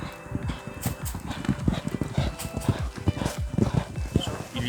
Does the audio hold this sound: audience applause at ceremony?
no